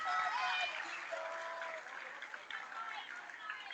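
Big ovation from a packed Brimley crowd filling the far bleachers at a boys' district semifinal basketball game against Engadine, with steady, loud applause and cheering throughout.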